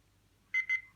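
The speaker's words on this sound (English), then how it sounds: "that beep just lets you know it's going back to the time settings" A talking Cobolt water-resistant watch gives two short electronic beeps in quick succession, then falls quiet.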